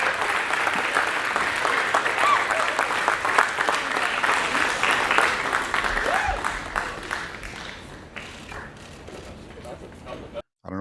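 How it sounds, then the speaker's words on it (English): A crowd applauds continuously, a dense patter of clapping that gradually thins and fades toward the end, with voices mixed in. "I don't know why people are still applauding even after he fell"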